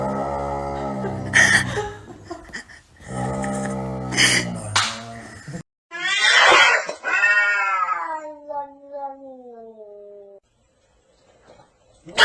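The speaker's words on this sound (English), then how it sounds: "Oh, the cat." A cat meows repeatedly, loud drawn-out yowls and caterwauls in several bursts, close by, ending with a long wavering cry that trails off.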